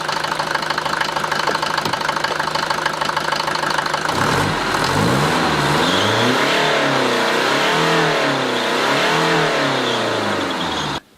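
A Mercedes-Benz W124 diesel engine revs up loud and close, its rough knocking note climbing and falling through repeated throttle blips before cutting off abruptly at the end.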